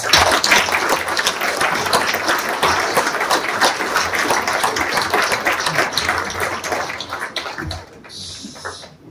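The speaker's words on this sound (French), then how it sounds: "Merci de les applaudir." Applause from a New Year greetings ceremony audience, steady and dense for about eight seconds before dropping off sharply, leaving a brief quieter tail.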